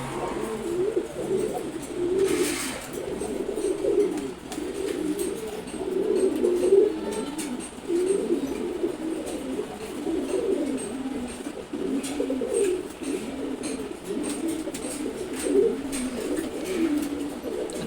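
A flock of pigeons, among them silver-colored birds, coos continuously in a loft, the low burbling calls rising and falling in waves throughout, with no voices.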